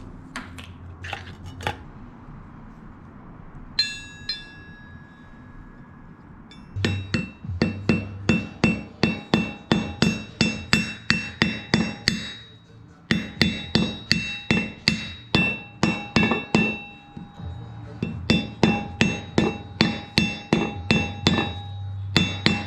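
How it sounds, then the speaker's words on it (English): Metal strikes ring out while a bearing is pressed into a Miata flywheel for a clutch kit install, with irregular runs of sharp, close hammer-like blows separated by brief pauses over about twenty seconds. "So I'm gonna press the bearing in now."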